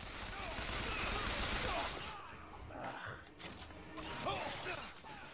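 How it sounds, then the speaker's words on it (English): Chaotic gunfire in the first-person shooter Bioshock Infinite, rapid shots and crashing impacts mixed with game noise, dense and loud at first, then thinning briefly before another burst, heard alone without clear talk. "Who the hell's shooting me?"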